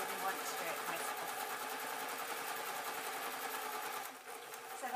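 A sewing machine stitches fabric for a sewing project to make an owl, giving a steady close mechanical whir that holds nearly unbroken and eases slightly near the end.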